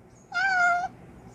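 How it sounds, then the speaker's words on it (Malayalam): A single clear cat meow, recorded animal sound played back from a phone, rises briefly and stands alone against a quiet background. "പൂച്ച കരയുന്നതായിട്ടുള്ള സൗണ്ട് നിങ്ങൾക്ക്"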